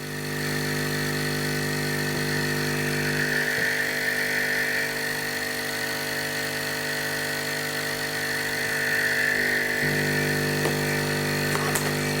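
An air assist pump for a laser engraver hums steadily and continuously at close range, a constant deep drone with a brighter whine on top and no talking.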